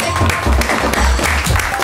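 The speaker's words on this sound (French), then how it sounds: "Bonjour Iris, on peut vous applaudir." Brief, fairly loud applause greets the studio guest Iris as she joins the show, a dense patter of clapping heard close with some low rumble beneath.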